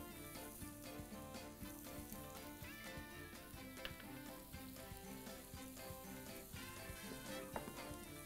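Onions and butter sizzle and fry in a pan, a dense, steady crackle with a few sharper pops.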